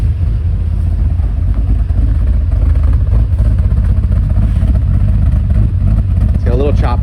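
A 2019 Chevrolet Silverado engine revs loud and close through stock mufflers, a steady choppy drone with a slight lope, joined near the end by a voice.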